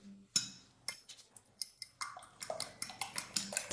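Three eggs whisked with salt and pepper in a bowl for breading chicken, sharp utensil clicks against the dish that start sparse and settle into a quick, steady beating rhythm, close and with no talk.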